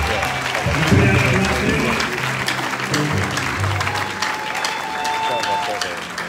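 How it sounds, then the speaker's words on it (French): Applause and crowd noise fill a funeral service for Pastor Charles Lessie, a steady wash of clapping that swells early and holds throughout, with voices mixed in among the mourners. "Est-ce qu'on peut acclamer?"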